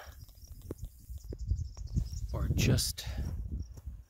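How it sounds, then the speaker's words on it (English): Grasshoppers chirp in short repeated bursts near an old cemetery outdoors, fairly close, with a brief spoken word and some handling noise partway through. "These grasshoppers are amazing."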